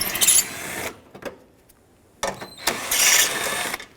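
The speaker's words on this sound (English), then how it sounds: "I'm going to start with a 7mm socket and unscrew the two mounting screws for the headlight" Two bursts of a small power or socket driver turning out the headlight mounting screws on a Pontiac G6 (2005-2010), a 7mm socket on each. The whirring bursts come close together, each under a second, with a near-silent gap between them.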